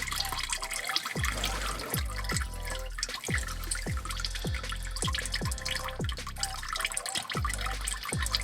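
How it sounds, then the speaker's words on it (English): Engine oil drains from a Chevy SSR during an oil change, a steady run of distinct drips falling at a regular pace into a drain pan over a continuous liquid trickle, close and fairly loud, with no talking. "as we pull this off, the edge of the oil from the engine might start draining onto the edge there"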